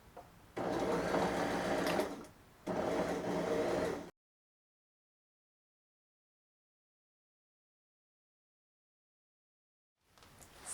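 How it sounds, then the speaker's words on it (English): A sewing machine runs in two steady bursts of stitching, pausing briefly between them, as it sews around a skirt made from a Simplicity pattern, then falls silent before a faint return near the end. "And Anna, you can backstitch and head all the way around back to the beginning"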